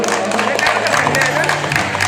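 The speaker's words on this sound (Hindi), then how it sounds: "जोरदार तालियों से स्वागत" Loud applause welcoming guests onto the stage at a BJP political gathering, dense continuous clapping from a large crowd with some cheering and a low hum underneath.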